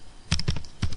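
Several quick clicks from a computer keyboard, typed close and clear in two short bursts with no talking.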